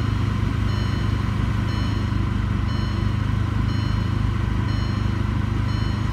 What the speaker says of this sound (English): you can see it idles right at about 900 RPM where it should